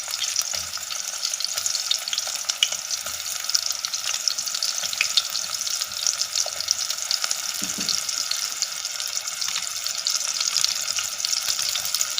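Steady sizzling and crackling of finely chopped onion frying in a hot pan until lightly browned, continuous and close, with occasional faint stirring scrapes.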